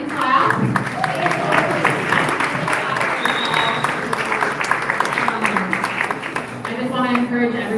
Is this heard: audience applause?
yes